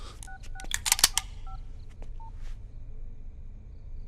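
A telephone number is punched in on a touch-tone phone, a quick series of distinct dialing beeps, several in close succession then a few spaced tones, heard alone in a quiet room.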